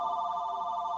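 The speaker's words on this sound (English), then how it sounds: "Oh, that's a phone call." Telephone ringing with an incoming call, a steady electronic tone heard alone and fairly faint.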